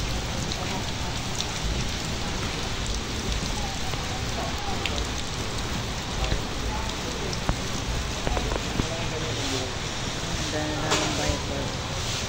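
Dense, steady rainfall hisses continuously, with scattered louder drips and patters standing out against the constant wash.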